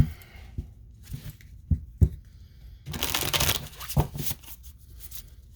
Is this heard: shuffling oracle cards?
yes